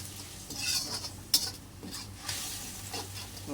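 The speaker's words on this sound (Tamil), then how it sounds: "சேர்த்து கருவேப்பிலை சேர்த்து எல்லாத்தையும் நல்லா வதக்கணும்." Paste being sautéed with jaggery, white sugar and curry leaves for mango pachadi, with a spoon scraping and clinking in the pan over a soft sizzle, one sharp metallic tap standing out.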